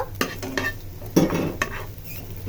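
Chow mein ingredients frying and being stirred in a pan, with a spatula scraping and clinking at intervals over a steady low sizzle, close up.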